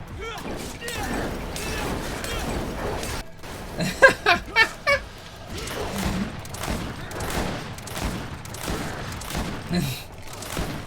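Rapid, repeated weapon fire in the action video game Greed Cometh Before the FINAL Fall, dense bursts running steadily under near-constant talking, with a cluster of sharper blasts midway.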